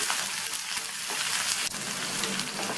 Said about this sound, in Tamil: ஒரு மீடியம் சைஸ் வெங்காயம் பொடியாக கட் பண்ணது, 2 காஞ்ச மிளகாய் கட் பண்ணது. இது எல்லாத்தையும் வதக்கிக்கலாம்